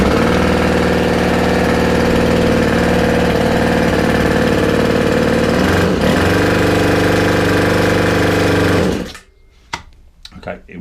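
A Ryobi 4-stroke string trimmer engine with a new carburetor runs loud and close, idling steadily with a slight waver, then cuts out abruptly, leaving a few faint clicks and handling noises.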